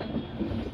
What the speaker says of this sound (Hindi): सामने से आ रही है नई दिल्ली काठगोदाम